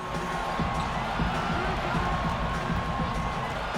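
A basketball arena crowd roars steadily in the NBA 2K7 video game, a broad, loud, continuous wash of cheering with scattered bouncing thuds during All-Star Game play.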